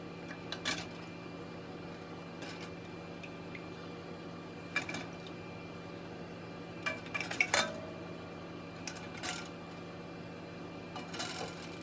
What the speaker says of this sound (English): I'm doing a slow cooling process and getting out the jars